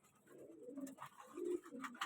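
Pigeons coo softly in a loft holding giribaj, teddy and other breeds, low rolling calls repeating through the moment with no voices.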